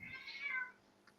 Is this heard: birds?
no